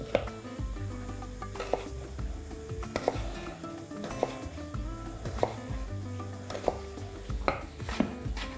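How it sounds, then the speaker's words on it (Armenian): A knife chops potatoes into small cubes for a bulgur and vegetable stuffed-pepper dish, about eight sharp, close taps on a board at uneven intervals over a soft kitchen background. "սրանք էլ կտրատում ենք մանր խորանարդիկների և ավելացնում ենք տապակի մեջ"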